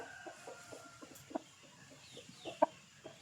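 Faint, sparse clucks from a Thai fighting rooster, short calls scattered across a quiet yard-like background with one sharper cluck standing out near the end.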